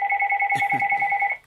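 An electronic telephone ringer trills in a steady rapid warble at close range, with a brief burst of low voice partway through.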